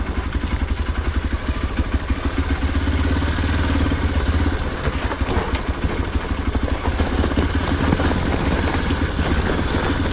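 A motorcycle descends the Kudremukh ghat road on engine braking, its engine loud and close in a steady, throbbing drone with rattly clatter throughout and no talk.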